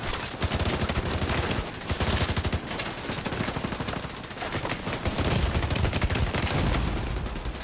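Sustained automatic turret fire in the video game The Division 2, a dense, loud, continuous rattle of rapid shots that barely lets up for the whole stretch, with no voices over it.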